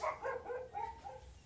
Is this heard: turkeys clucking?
no